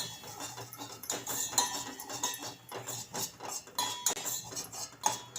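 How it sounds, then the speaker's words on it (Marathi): Coarse semolina roasting in ghee in a pot, stirred continuously over low heat so it gives a steady close rasp with repeated metallic scrapes and clinks against the pot. No one speaks. "याला गुलाबी रंग येपर्यंत सतत हाताने असं हलवत भाजून घ्यायचं आहे"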